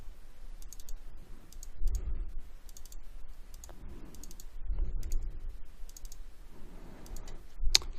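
A computer mouse clicks in short double-click bursts at regular intervals, sharp and close, over a low, quiet room hum.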